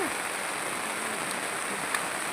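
Steady rain falls in a forest where charcoal is being harvested, a constant even hiss with no distinct drops, heard alone and without talk.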